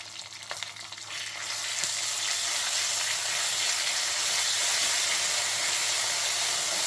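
Ginger-garlic paste and curry leaves hit a hot pan, building after a couple of seconds into a loud, steady sizzle with some stirring, no voices.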